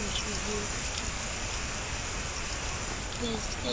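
In the Indian Theft Auto simulator game, steady rain hisses evenly throughout, a dense uniform wash with faint tonal game sounds dotted over it.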